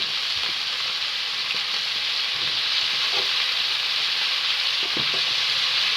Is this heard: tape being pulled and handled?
no